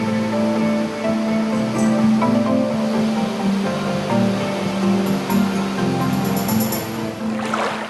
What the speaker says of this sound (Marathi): अणुभट्टीतून जिथे पाणी सोडतात त्या ठिकाणी जाऊन आम्ही पाहिलं